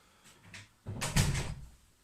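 A door opens with a brief rattle and a soft whoosh, quiet and a little distant in a room during casual conversation.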